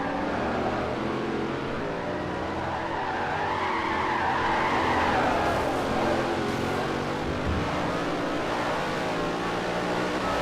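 A V8 supercar in Forza Motorsport 4 slides sideways with a sustained tire skid over a loud, steady engine drone, the squeal swelling and fading across several seconds.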